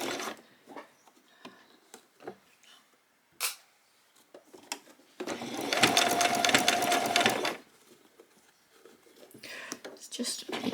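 A sewing machine runs in one steady burst of rapid stitching while attaching a bottom ruffle to a spring apron outfit, loud and close, with quiet handling clicks and a few soft spoken words before and after.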